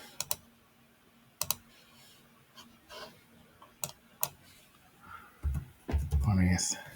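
A computer keyboard is used to type a dimension in Autodesk Fusion: a few sharp isolated key clicks spread over the quiet, close and crisp, with someone speaking briefly near the end.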